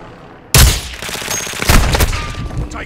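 Gunfire in Call of Duty: Modern Warfare II breaks out abruptly with a loud close burst, followed by scattered shots and a second heavy volley amid battlefield noise, without speech.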